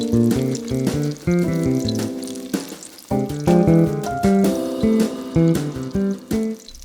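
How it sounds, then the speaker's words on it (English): Apple fritter dough sizzles in hot oil with a steady bubbling crackle, while clinking utensil taps and tonal clatter sound repeatedly over it, close and fairly loud. "use 2 utensils, one to scoop up the dough and the other to help scrape it off the spoon when dropping it in the oil"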